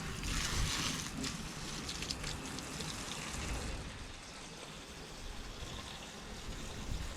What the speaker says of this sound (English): You want to rinse it out with the tap or the hose in my case.